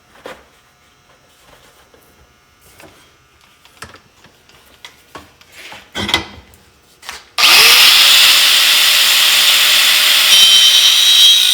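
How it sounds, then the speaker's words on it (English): A hole is cut into the fuel tank sump of a VW bus: scattered taps and clicks of setting up, then a power tool bursts on loud and close, cutting steadily into the metal until the end. "So doing our first cut at 7, the hole is about 1 inch up on the sump"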